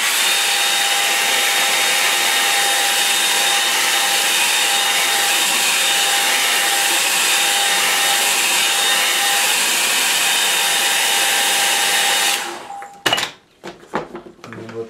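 A hair dryer blows steadily and loudly at close range to dry a painting of Cornish headlands, a constant whooshing drone that cuts off near the end, followed by a few handling clunks.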